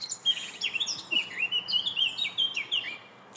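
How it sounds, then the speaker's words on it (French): Several birds sing outdoors in a quick run of bright, high chirps and tweets that rise and fall, fairly close and clear over a quiet background. "Oh, c'est magnifique ces chants d'oiseaux."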